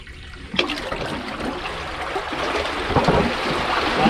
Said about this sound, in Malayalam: ഇതിപ്പോൾ നമുക്ക് കെട്ടിലേക്ക് അകത്തേക്ക് വെള്ളം കയറുന്നതാണ്.